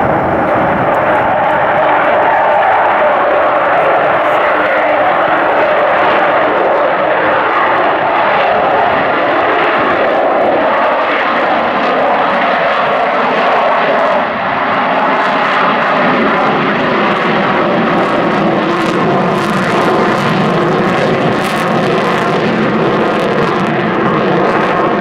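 An Avro Vulcan XH558 delta-wing bomber flying past at the Royal International Air Tattoo, its jet engines producing a loud, continuous roaring howl that holds steady throughout, with no talk over it.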